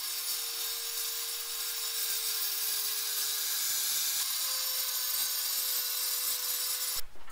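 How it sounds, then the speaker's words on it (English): An angle grinder fitted with a diamond blade cuts through a metal cup in a backyard. It gives a loud, steady whine that holds for several seconds, with a harsher burst at the very end, and no one speaks. "I'm going to get my diamond blade on my grinder."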